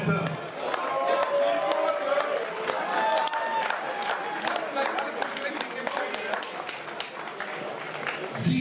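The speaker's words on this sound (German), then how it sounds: "Applaus nochmal für die beiden Fighter." Crowd at a professional boxing event in Essen applauding the two fighters after a first-round TKO, a dense, steady wash of clapping and cheering with voices mixed in, filling the arena for the whole stretch.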